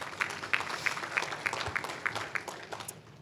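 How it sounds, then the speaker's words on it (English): A room of people clapping at a business talk, light and sparse, with a few distinct claps landing in a steady rhythm that fades slightly toward the end. "So I would love to have a round of applause to everyone in this room"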